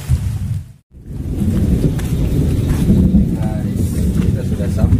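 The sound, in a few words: rain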